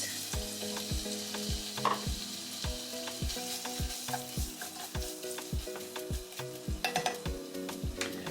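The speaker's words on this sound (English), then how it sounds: "our oil is nice and hot and our sausages are frying" Hot dogs fry in oil in a pot, sizzling steadily while a utensil stirs and taps the sides in a regular rhythm, close up with no talking.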